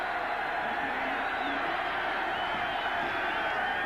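A large football stadium crowd roars steadily at a 1987 Nebraska Cornhuskers home game against South Carolina, a dense, continuous wash of cheering urging on the defense.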